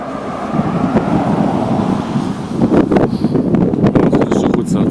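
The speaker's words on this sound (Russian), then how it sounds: "Что за ветрище такое?" Strong wind roars across the microphone outdoors in a steady, loud rush with heavier gusts in the second half, and a muffled voice comes through faintly at times.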